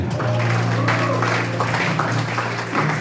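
A church congregation applauding at an evening revival service, a dense continuous wash of clapping throughout, with voices and a sustained musical tone underneath.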